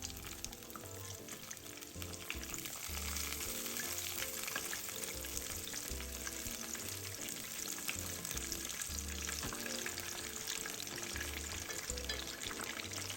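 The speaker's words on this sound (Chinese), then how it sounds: "分批油炸，不要一次放太多" Shrimp and garlic chive fritters deep-frying in oil in batches make a continuous, even bubbling sizzle with fine crackles. A low rhythmic thump runs faintly underneath throughout.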